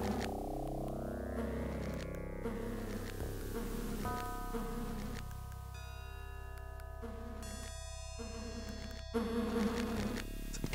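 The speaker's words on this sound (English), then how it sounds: "The bees, it's just always sounds of bees." Buzzing bees in the video game Lands of Lore: The Throne of Chaos, a steady droning hum layered with shifting tonal game sounds and chimes, constant and moderately quiet, with no speech.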